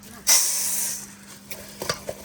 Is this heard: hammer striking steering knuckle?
no